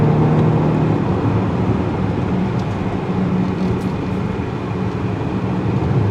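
A 2020 Volvo XC90 T8 hybrid in power mode on a winding back road gives off a steady, loud rumble of engine and road noise that fills the cabin without a break, and no one speaks.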